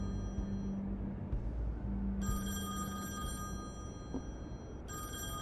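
A telephone rings in The Wolf Among Us video game, sounding two bright trilling bursts with a pause between them over a low background hum, and no talk.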